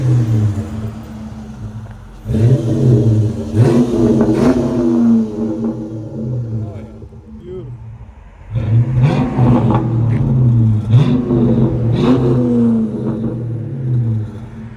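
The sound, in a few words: Dodge Magnum 5.7L HEMI revving with Flowmaster Super 10 exhaust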